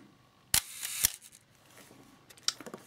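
Nikon F2 35mm film camera shutter firing at a half-second exposure: a sharp mechanical click opens it, and a second click closes it about half a second later, close and clear, followed by softer handling clicks.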